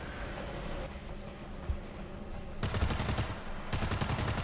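Rapid bursts of automatic gunfire from a World War Z video game crack out in dense, loud volleys, with a brief gap between bursts and steady background game ambience.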